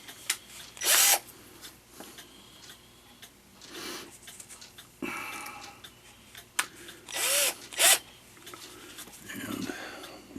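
A drill cuts through a metal part while a Regula 25 is being repaired, giving short loud bursts of whirring and grinding separated by pauses, with clicks and handling noises between them.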